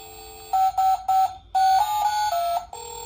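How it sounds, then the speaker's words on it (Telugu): Short electronic beeps in a quick run, then a sustained melodic tone sequence, the classic old Nokia ringtone played up close from a children's learning pad. "పాత నోకియాది."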